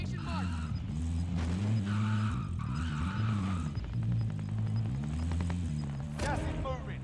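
A vehicle is driven in the Warzone video game: the engine drones steadily with repeated tire squeals and skids, while a voice talks over it.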